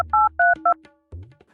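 A telephone number is dialed as three loud, clear keypad tones in quick succession, followed by a fainter tone and a short hum.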